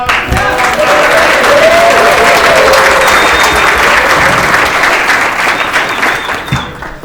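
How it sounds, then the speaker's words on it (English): An audience at a panel event applauds steadily and loudly, sustained clapping filling the whole stretch before tapering slightly at the end. "Let's give a round of applause to the panelists."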